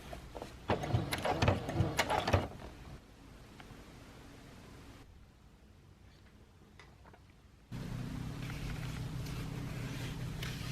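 A sewing machine stitches a jacket pocket, with a quick rhythmic ticking run early on, a quieter stretch, then a steady whirring hum near the end, up close and without talk.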